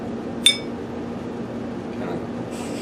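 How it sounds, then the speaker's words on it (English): A single sharp glass clink rings out as a glass piece is set onto a turkey call kit during assembly, a brief bright tap over a steady low room hum, followed by faint handling noise. "put the glass on it."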